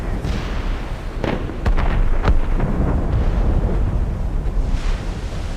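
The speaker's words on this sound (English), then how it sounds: "Cannon fire. Deep within the fog." Low, muffled cannon fire booms in from a distance within fog in the video game Assassin's Creed Rogue, over a steady rumbling background, a few heavier thuds standing out in the middle.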